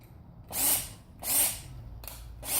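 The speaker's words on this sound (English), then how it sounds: "I start my little pilot hole there with my drill." A power drill drives a hex head screw into wood while building a birdhouse, in three short whirring bursts of rising pitch, close and fairly loud, with brief pauses between them.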